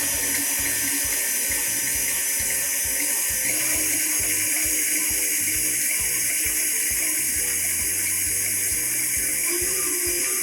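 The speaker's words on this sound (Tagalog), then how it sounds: "So, I'll add the remaining water." Water pours steadily from a tap or jug into whipped cake batter in a mixing bowl, a continuous close splashing rush with no talk.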